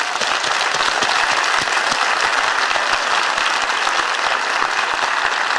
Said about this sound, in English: We will cheer very, very loudly.